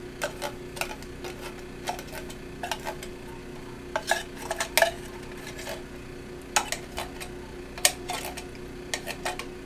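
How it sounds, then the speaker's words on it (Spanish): Milk topping stirred with a utensil in a small dish, making light, irregular clinks and scrapes against the dish that repeat throughout. "el topping que lleva arriba, que voy a revolver"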